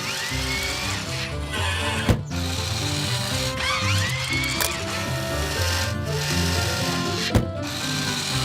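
A cartoon truck loads heavy timber amid buzzing, tool-like mechanical whirring over light music, with two sharp wooden knocks standing out at separate moments.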